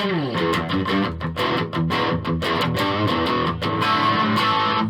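Electric guitar played with a gritty distorted tone, strummed chords and picked notes ringing steadily and loud, with no voices.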